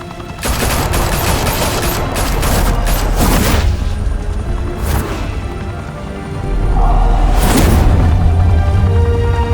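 Loud, sustained gunfire rattles through a shootout in Batman: The Telltale Series, with dense bursts of shots, booms and a swelling second volley near the end, no talking.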